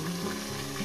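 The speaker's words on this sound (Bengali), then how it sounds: "মাছের মাথাটা আমার ভাজা হয়ে গেছে" A fish head fries in oil in a pan, giving a dense, even sizzle heard close up for a brief moment.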